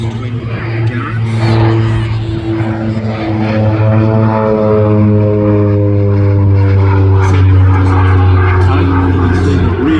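Twin Garrett turboprop engines drone loudly and steadily as an aircraft passes at an air festival display, with rising and falling engine tones throughout and faint voices beneath the roar.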